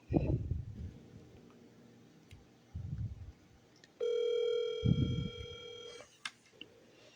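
A telephone sits quiet for a few seconds, then a short run of dial tones and a steady tone sound as a number is dialed after a *67 privacy code. The tones are close and clear, with faint background noise and no talking.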